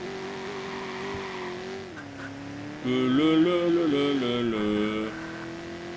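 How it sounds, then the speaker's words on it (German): Car engine from the Watch Dogs video game played on PS4, a steady droning tone that dips, then rises and revs in a louder shifting burst midway before settling back, with no talk over it. "Fahren wir mal ein bisschen rum, so lange bis wir ein Ziel gefunden haben."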